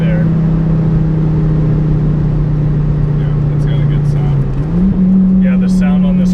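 Volvo S60R engine drones steadily from inside the cabin while driving, a sustained low hum that shifts pitch upward near the end as revs change, with someone talking over it.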